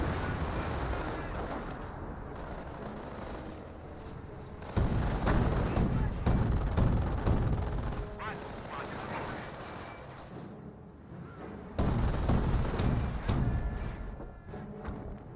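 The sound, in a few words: M2 machine gun firing and grenades in video game Company of Heroes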